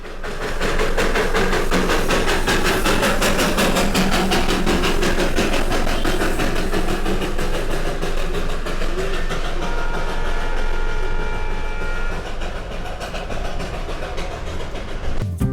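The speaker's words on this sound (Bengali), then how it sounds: "এরপর দেখা হলো একটি স্টিম ইঞ্জিনের টয় ট্রেনের সাথে" A steam-engine toy train on the Darjeeling railway rumbles steadily nearby, its engine droning with rhythmic clatter from the cars, loud and continuous throughout with faint voices in the background.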